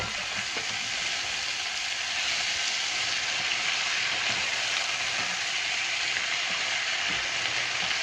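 Cactus pieces and black beans warm in a pan for vegan tacos, giving a steady, even sizzle that fills the whole stretch, close and fairly loud, with no talking over it.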